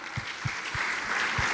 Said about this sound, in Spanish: Vamos a darle un aplauso al Señor.